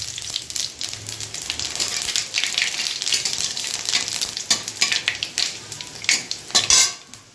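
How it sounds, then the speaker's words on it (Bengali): Dried chili, a bay leaf and whole cumin seeds crackling in hot oil, a close bright sizzle with spitting pops that grow sharper toward the end, alongside clinks of a metal utensil against the pan. "এদিকে তেল গরম হয়ে গেছে, একটা শুকনো লঙ্কা দিলাম ফোড়নে, একটা তেজপাতা দিলাম আর একটু গোটা জিরে দিয়ে দিলাম।"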